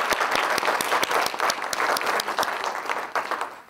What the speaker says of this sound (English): Let me give them a round of applause.